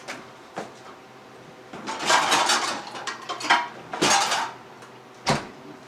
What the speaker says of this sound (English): Grab yourself a bowl to put it in, and you put it in there.